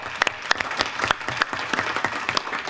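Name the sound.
round of applause at a school board meeting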